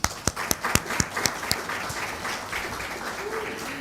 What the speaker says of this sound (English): Please give applause for them.